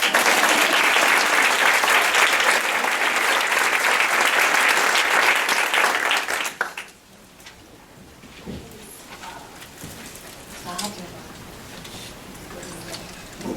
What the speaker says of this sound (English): We need to give you a round of applause.